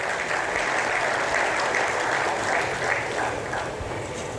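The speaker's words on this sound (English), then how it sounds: "let's hear another round of applause for him" Audience applause at a Nigerian book launch event, a sustained, dense clapping from a crowd that holds steady for several seconds before easing slightly at the end, with no talking.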